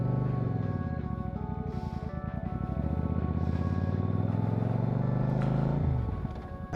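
A motorcycle cruises along the road with a steady engine drone throughout, the pitch holding fairly even before easing off near the end, close and loud with no talking.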